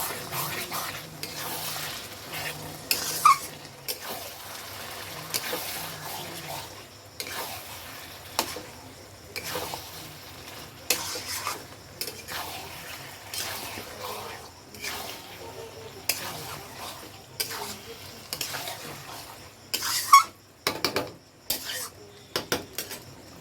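Marinated mutton is sautéed in a pan for a spicy red curry, heard as quiet sizzling under repeated scrapes and clinks of a spoon against metal, with occasional louder knocks throughout.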